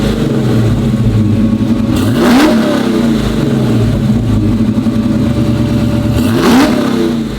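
A 1969 Dodge Charger restomod with a Hellcat engine revs hard twice while backing out, each sharp blip climbing and falling over a loud, rumbling idle, close and without talk.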